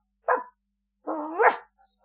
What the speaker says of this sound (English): We just thought we'd make a dog bark at the start of your audio podcast